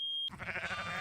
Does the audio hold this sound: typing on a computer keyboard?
no